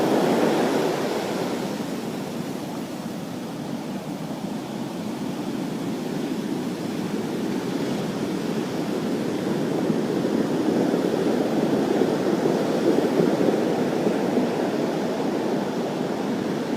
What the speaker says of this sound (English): Here comes some of those larger waves out here.